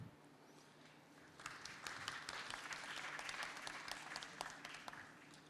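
Applause from a seated audience at an artist talk, starting abruptly after a quiet moment and continuing steadily as a dense patter of many hands clapping, with a few sharper individual claps standing out near the end.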